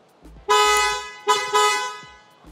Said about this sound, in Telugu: Double horn, wing tone horn, హెల్ల horn installation చేశాను.